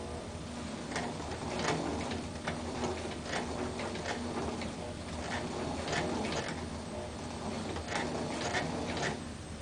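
Sewing machine stitching slowly along a princess seam in fabric, a soft steady run of faint ticks and clicks close by, no talking.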